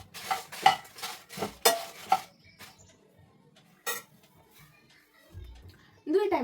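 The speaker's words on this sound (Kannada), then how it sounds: "ಫ್ರೈ ಆಗುತ್ತೆ" Coriander frying in a pan for a village-style chicken sukka spice powder, heard as a run of clattering stirring scrapes and pan knocks early on, then quieter stretches with light scraping.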